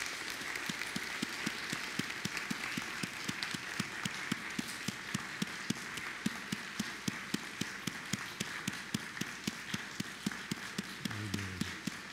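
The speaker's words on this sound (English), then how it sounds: "Would you give them all one big round of applause," A church congregation claps in a steady, rhythmic beat, the even claps continuing throughout at a moderate distance.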